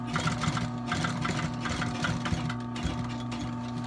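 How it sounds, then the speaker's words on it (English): A Yamata post sewing machine stitches a Tony Lama boot, running steadily with a rapid, even mechanical chatter and a constant motor hum, close and uninterrupted. "It's a Yamata post machine."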